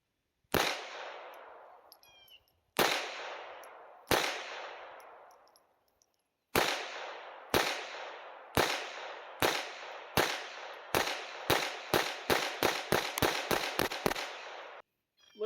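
Sharp, loud shots from a Sig P322 pistol with a red dot sight ring out at a shooting range: three widely spaced shots, then a steady string that quickens into rapid fire.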